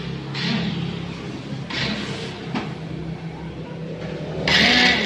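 Honda Taurus scooter starter motor spins in several short whirring bursts without catching, each burst loud and close with no engine firing afterward.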